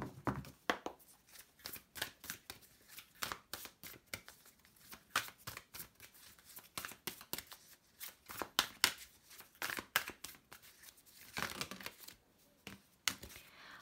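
Tarot cards are shuffled and turned over close by in quiet, rapid bursts of flicking and riffling, with brief pauses and soft snaps between bursts.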